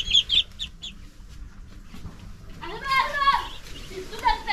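Village chickens cluck near a coop in short bursts at the start, and further calls come later, mixed with nearby talking and other outdoor background sounds.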